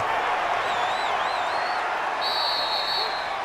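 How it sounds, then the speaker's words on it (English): Stadium crowd noise in Madden NFL 20 for the home Baltimore Ravens in a playoff game against the Titans: a steady, dense roar of applause and cheering, broad and continuous, with a few whistles rising above it. "And the home crowd applauding."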